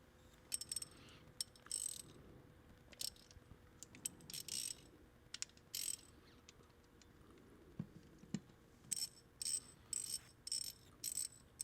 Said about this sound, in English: now you're going to need your 14mm wrench and socket to remove the cover at the bottom